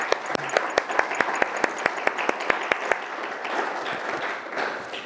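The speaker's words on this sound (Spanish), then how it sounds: "Un aplauso para David." An audience at a public talk welcomes a guest speaker with applause: a few sharp, evenly spaced claps ring out first, then build into a denser round of clapping that fades near the end.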